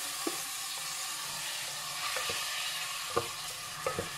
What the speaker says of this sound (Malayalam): അരി ഒന്ന് നെയ്ക്കകത്തിട്ടൊന്ന് വരട്ടിയെടുക്കണം.